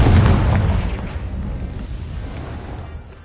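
A Confringo blasting curse explodes in a Harry Potter video game: a loud, deep boom that hits at once, then rumbles and slowly fades over a few seconds.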